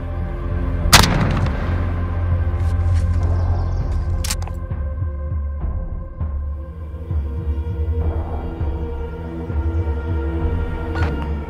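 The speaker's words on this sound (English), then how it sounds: "Gunfire." Gunfire and explosive bursts from the video game Call of Duty: Modern Warfare, with a sharp loud shot near the start, another blast around four seconds, and scattered later shots over a continuous rumbling battle backdrop and music.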